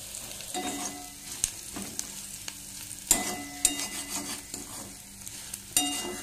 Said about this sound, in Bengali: একটুটা কষাই, হলুদ, নুন, লঙ্কা, জিরে গুঁড়ো।